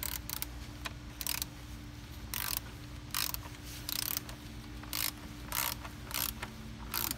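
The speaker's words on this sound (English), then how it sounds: "then you can torque your valve body. The torque spec is 71 inch-pounds." A torque wrench tightens valve body bolts on a 6L80/6L90 transmission with repeated ratcheting bursts, each a short, close clicking run. They come in a steady rhythm over a low mechanical hum.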